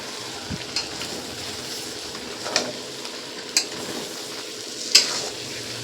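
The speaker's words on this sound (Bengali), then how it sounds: "মটরশুঁটি আর ধনেপাতা দিয়ে আবার একটু নাড়াচাড়া করে নেব।" Fried peas and chopped coriander being stirred into chicken in a pan, with a steady sizzle broken by a few sharp scraping and clinking strokes of the spoon.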